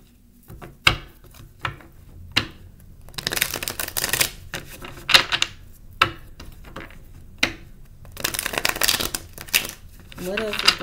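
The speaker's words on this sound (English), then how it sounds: "Okay, so I'm going to pull a few of the tarot cards." Tarot cards shuffled in repeated riffling bursts, close and fairly loud, with pauses between bursts and some talking mixed in.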